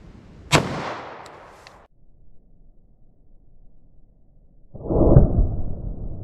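Two pistol shots from a Glock 41 and a longer-barreled pistol firing Winchester Kinetic .45 ACP into layered denim, clear ballistic gel and MDF; a sharp loud crack, silence, then a second blast with a rumbling tail.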